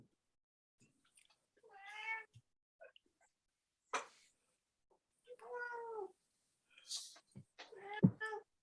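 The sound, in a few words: cat whining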